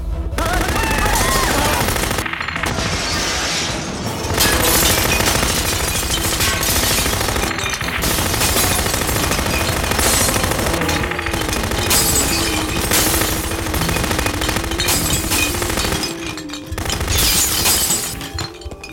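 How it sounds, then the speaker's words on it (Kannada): Gunfire in a Kannada action film, with rapid bursts of loud shots and shattering impacts rattling almost continuously, briefly broken by short gaps of quiet. "bullet sound ಕೇಳಿಸ್ತೇನೋ"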